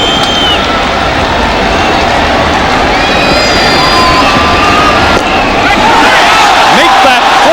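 Crowd of more than 50,000 at a Toronto Blue Jays home game against the Montreal Expos in 1997, booing a batter in a loud, sustained mass roar that fills the stadium, with an announcer talking over it.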